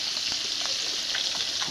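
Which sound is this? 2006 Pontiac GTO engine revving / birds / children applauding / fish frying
fish frying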